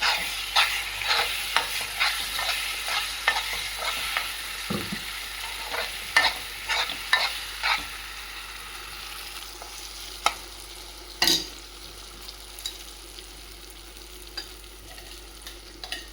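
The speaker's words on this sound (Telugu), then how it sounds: "ఈ విధంగా మనం ఆయిల్లో బాగా మగ్గించాలి." Nalleru chutney ingredients fry in oil in a pan, with a soft continuous sizzle under close scraping and stirring strokes that grow sparser toward the end.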